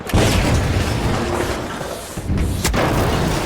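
A heavy, booming explosion in the video game The Finals bursts out, followed shortly by another sharp blast, loud and close.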